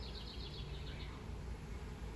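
Honey bees hum in a soft, continuous drone throughout a summer hive inspection, faint and steady with a slightly higher whine drifting over the low buzz.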